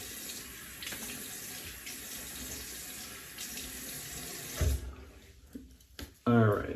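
Tap water runs steadily from a sink faucet while alum is rinsed off after a shave, a continuous broadband rush that cuts off near the end, followed by a few brief splashes and clunks.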